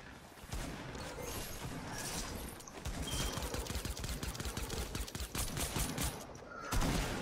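Rapid bursts of gunfire crackle during a Fortnite match, dense rattling shots packed together for several seconds, fairly quiet overall with a louder burst near the end.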